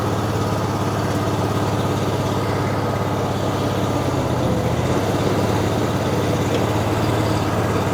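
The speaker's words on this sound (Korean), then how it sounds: "초크 스위치, 초크 레버를 당깁니다. 시동이 걸리겠죠." A power compost spreader's engine idles with a steady, loud, low mechanical drone and constant rattling hum, unchanging throughout.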